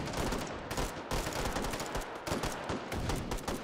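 Dense, continuous gunfire in the VR shooter Hot Dogs, Horseshoes & Hand Grenades, rapid overlapping automatic bursts filling the whole stretch, loud and close, with no talk.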